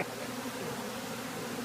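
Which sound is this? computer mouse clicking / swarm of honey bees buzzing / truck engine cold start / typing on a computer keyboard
swarm of honey bees buzzing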